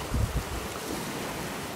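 Big surf crashes on a rough sea shore during bad weather, with a loud low thud near the start, then a steady roar of water and wind buffeting the microphone.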